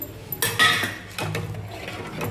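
A spoon or ladle scrapes and clinks against a pot of bottle gourd kheer with cardamom and bay leaf, a few close metallic strokes over a steady low background.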